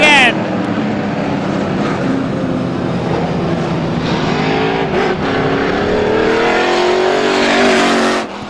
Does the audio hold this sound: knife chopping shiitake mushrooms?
no